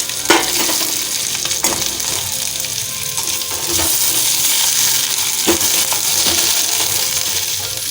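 Whole cumin seeds, bay leaf and dried fenugreek leaves crackle and sizzle steadily in hot oil in a pan for aloo dum, a close, continuous hiss with sharper pops and spoon scrapes throughout.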